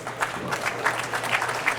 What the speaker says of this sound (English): they're clapping because they know he has an opportunity to get them all